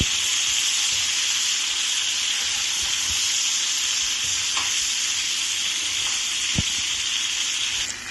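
Chicken pieces fry in hot oil in a pan before being coated in lemon butter sauce, giving a steady, loud, crackling sizzle with a few sharp pops and no talking.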